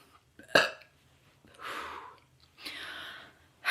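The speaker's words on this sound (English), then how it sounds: "I need to burp." A few throaty bursts with pauses between them, one sharp burp-like gulp followed by two longer, breathy rumbling belches, close to the mic.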